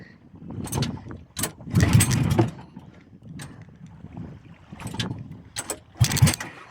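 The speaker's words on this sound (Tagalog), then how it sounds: "Ayaw na mag-andar guys, makina ko." A flooded boat engine cranks repeatedly in short sputtering bursts, each attempt dying out without catching, close by.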